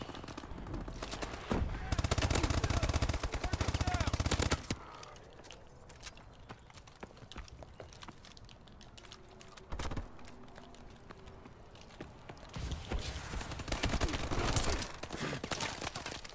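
Automatic gunfire bursts in the futuristic shooter Call of Duty: Advanced Warfare during a team deathmatch, loud dense volleys in two long stretches with quieter gaps and single sharp shots between.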